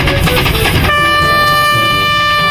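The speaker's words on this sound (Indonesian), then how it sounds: "di sini ada kereta api uap." A toy steam train, likely a Thomas-style toy, sounds loud and close with a mechanical rattle that shifts into a steady whistle-like horn tone holding through the rest.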